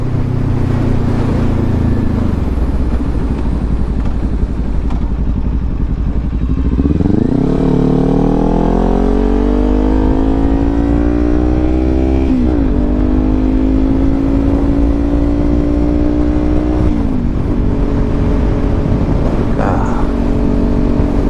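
A 2018 Kawasaki Ninja 400 motorcycle engine being ridden, loud and close, with rising harmonic sweeps as it revs up through the gears over steady wind rush, plus a few brief dips between shifts.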